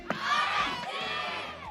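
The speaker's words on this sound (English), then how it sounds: "paringgan naman natin sila ng cheer mo" Loud crowd cheering and shouting fills a Mobile Legends esports match between RSG PH and a rival team, a dense roar of many voices sustained throughout without letup.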